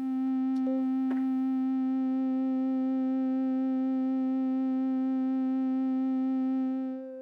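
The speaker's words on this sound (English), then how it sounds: "So oscillator 2, an octave up, sine wave." A synthesizer's second oscillator playing a sine wave an octave up, a steady sustained pure tone holding for several seconds with a few brief clicks near the start, then fading at the end.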